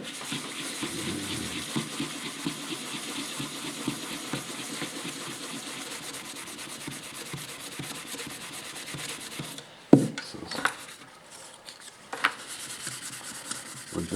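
600-grit sandpaper rubs dry across a harp's finish in a steady, close, rhythmic scratching, then pauses with a few soft handling knocks near the end.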